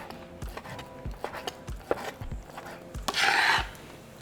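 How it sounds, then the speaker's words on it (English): A kitchen knife slicing steak into thin strips against the grain and then dicing it into cubes on a cutting board: a quick run of crisp, close chopping taps and short rubbing scrapes, ending in a longer sawing stroke. "We're going to cut into strips. Make sure that they're thin. And you're going against the grain. And we're just going to flip it over and then cube it."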